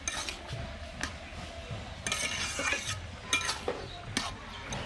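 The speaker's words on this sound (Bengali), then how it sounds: "ভালো করে নাড়াচাড়া করে দিচ্ছি।" Cumin powder being stirred into a bottle gourd curry in a pot, with a spoon scraping and clinking against the metal in irregular bursts over a soft simmer, close and fairly quiet.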